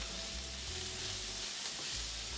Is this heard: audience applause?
no